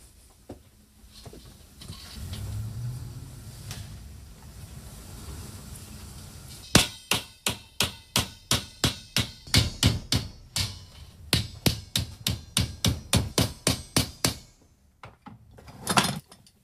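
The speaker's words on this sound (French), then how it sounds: "on va aplatir et égaliser la soudure" Metal hammer blows flattening and evening a freshly brazed weld seam on a metal drum shell in a percussion workshop, about two dozen sharp, evenly spaced ringing strikes at close range, following quieter handling noises.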